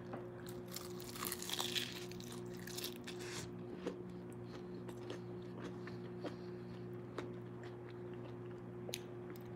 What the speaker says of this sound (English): And listen to this crunch.